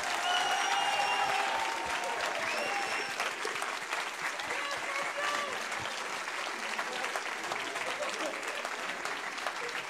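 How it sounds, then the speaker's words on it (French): Steady, dense applause fills the hall at the 2023 Occitanie-Est regional final of the Ma Thèse en 180 Secondes contest, strongest at the start and holding for the full ten seconds with scattered cheers and voices. "Et on les applaudit plus fort,"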